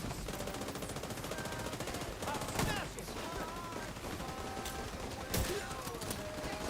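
Automatic gunfire rattles through a firefight in The Division 2, with rapid bursts running almost continuously and a couple of sharper, louder shots standing out from the dense clatter.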